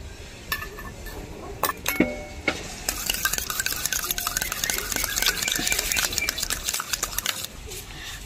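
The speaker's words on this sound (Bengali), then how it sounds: "টক দই এবার ফেটিয়ে নেব।" Sour yogurt being whisked briskly in a bowl until creamy, a close continuous clinking and stirring with occasional sharper taps, while a voice talks faintly in the background.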